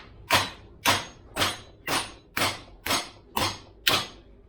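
Eight evenly spaced hammer blows drive a prop shaft bearing down the yoke on a Mitsubishi L200, each a sharp metallic strike ringing out close and loud with no talking.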